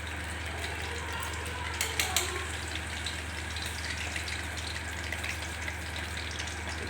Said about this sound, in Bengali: বন্ধুরা তেল গরম হয়ে গেছে, এবারে দিয়ে দেবো কয়েকটা কাঁচা লঙ্কা।